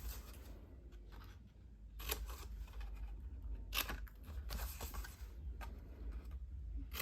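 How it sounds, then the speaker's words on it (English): Small paper snips cutting paper while making a homemade envelope, a series of crisp, close snipping bursts at irregular intervals over a quiet background. "We'll bring in our little paper snips."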